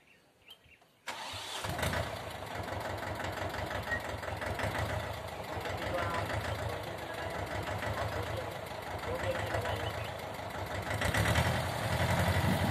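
A Mahindra Jivo 245 DI tractor engine cranks and catches after a brief quiet start, then settles into a steady, loud diesel chug with a fast regular knock that holds for the rest of the run, briefly swelling near the end.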